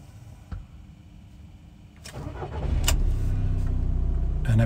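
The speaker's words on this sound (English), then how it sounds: "quick video start up on this VW T5 facelift." A VW T5 facelift camper van engine cranks and fires up after a quiet stretch of dashboard clicks, then settles into a steady, close diesel idle.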